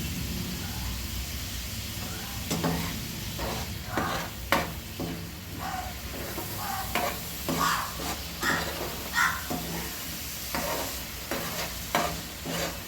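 Masala paste with turmeric fries in a pan for chole, making a low, steady sizzle broken by repeated scraping and clattering strokes of a spoon, fairly quiet and without talk.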